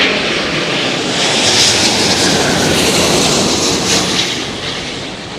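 A passenger jet lands in high winds at Heathrow Airport, its engines producing a loud, continuous broadband roar that holds steady and then slowly fades, with no talking.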